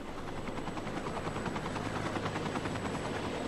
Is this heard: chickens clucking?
no